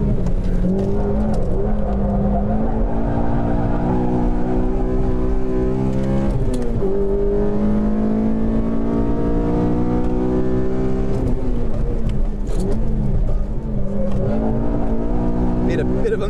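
Honda Civic Si build on a hot lap at a track, its engine revving loud and close as it downshifts and pulls hard, with a driver speaking over the steady engine roar throughout.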